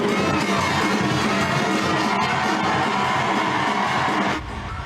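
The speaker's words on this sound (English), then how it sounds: "The crowd in the auditorium roars as President Mahama arrives for the official launch of the no-fee stress initiative" A large crowd roars and cheers in an auditorium as Ghana's President Mahama arrives for an official launch, a dense, sustained wall of cheering that drops off slightly near the end.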